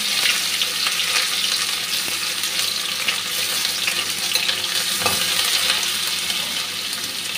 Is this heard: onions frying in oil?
yes